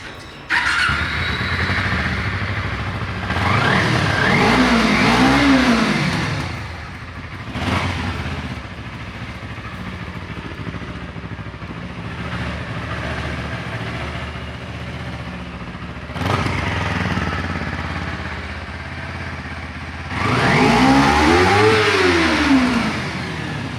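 A Kawasaki Ninja 250R race motorcycle fires up and revs hard in repeated bursts, the engine screaming up and dropping back to a steady idle between blips, loud and close.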